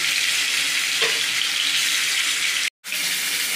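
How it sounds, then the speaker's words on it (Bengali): Pieces of rui fish, rubbed with salt and turmeric, sizzle loudly in hot oil as a dense, steady crackle that continues without a break. No voices are heard. "তেলের মধ্যে মাছগুলো সব ছেড়ে মাছগুলো সব ভেজে নিচ্ছি"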